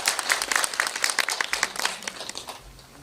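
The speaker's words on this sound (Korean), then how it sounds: "네, 큰 박수 부탁드리겠습니다." An audience at a guest-visit screening of the film 소풍 gives hearty applause. The close, dense clapping is loudest at first and thins out over three seconds.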